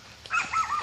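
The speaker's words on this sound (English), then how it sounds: "The dog probably sees us." An outdoor dog gives a short, sharp bark and a brief whine, heard at moderate distance and alone for under a second.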